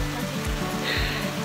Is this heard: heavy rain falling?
yes